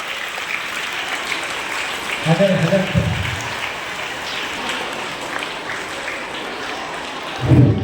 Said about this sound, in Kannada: ತಮ್ಮೆಲ್ಲರ ಜೋರಾದ ಚಪ್ಪಾಳೆ ಮೂಲಕ ಭಕ್ತಿಯ ಸ್ವಾಗತವನ್ನು ಕೋರ್ಬೇಕಂತ ಅವರಿಗೆ ತಿಳ್ಕೊಳ್ತಾ ಇದ್ದೀವಿ